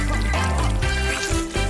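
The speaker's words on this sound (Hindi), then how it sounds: "मैं ऊपर से शहद डालूंगा।" Honey pours from above onto a cake during a cake-decorating challenge, a steady, loud liquid trickle that runs without a break under a dense background.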